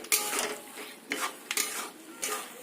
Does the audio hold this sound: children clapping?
no